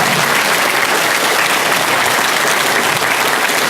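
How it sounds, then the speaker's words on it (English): A lecture audience in Holmfirth, UK gives steady, full applause after a talk on UFOs in Germany, loud and unbroken from start to finish. "Round of applause for Robert Fleischer."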